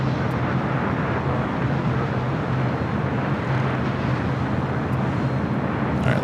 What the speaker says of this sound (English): A380 Super now preparing for takeoff on the south side at 7 right.